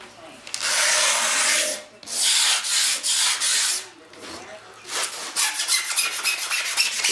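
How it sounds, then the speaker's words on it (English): Flaked-off fiberglass is scraped from a plate on an RC airplane build, loud repeated rasping strokes in bursts with short pauses between them. "you want to scrape the whole plate"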